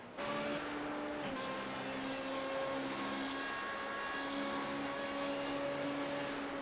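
A Formula Renault 3.5 race car engine screams onboard during a racing game lap at Silverstone, steady high revs with a gear change early on, droning continuously and close without any voices.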